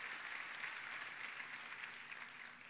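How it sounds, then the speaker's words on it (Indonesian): Faint, distant applause from a church congregation at a Good Friday service, a steady wash of many hands clapping throughout. "Tepuk tangannya yang meriah buat Tuhan kita"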